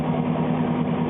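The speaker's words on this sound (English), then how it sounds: "press and hold the top button and start the vehicle up" A car engine idles steadily after a remote start from the key fob, a low, even rumble heard close by with no voices.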